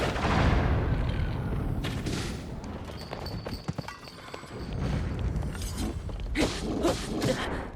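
Explosions blast enemies in The Legend of Zelda: Tears of the Kingdom, with repeated booming bursts and crackling debris layered over game sounds across several seconds.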